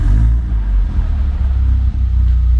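A Mercedes A45 AMG engine running with its exhaust valves closed makes a deep, loud, steady low rumble with a brief dip near the end, and nobody speaks over it.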